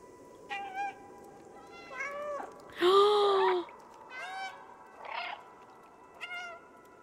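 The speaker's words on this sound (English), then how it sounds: "Press left alt to meow." Several distinct meows from the cat in the video game Stray, about six separate calls spaced roughly a second apart, one longer and louder in the middle, set against a quiet background.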